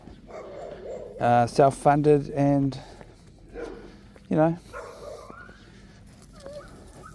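Quigley the dog barks and whimpers on a walk at Stafford Street Reserve, giving a cluster of loud yelping barks, then a lone yip and soft whines, while a person briefly talks.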